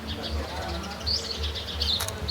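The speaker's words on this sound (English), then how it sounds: "And sparrows" Sparrows chirp in short bright bursts on a city street in Valletta, Malta, the calls scattered and fairly close over a low murmur of background noise.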